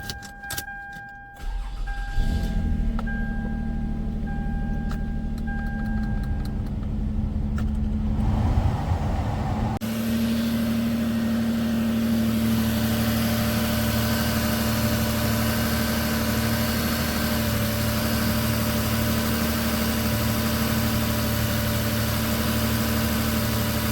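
A 2004 Toyota Solara engine cranks and catches, then settles into a steady, loud idle with a constant hum and heater fan blowing at full blast, after head gasket repair with the radiator drained.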